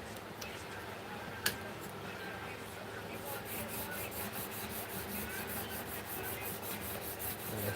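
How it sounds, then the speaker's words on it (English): Steady rhythmic rasping of hand sanding on wood, with a single sharp knock early on and a soft murmur of background noise throughout. "I'm just out here doing some hand sanding."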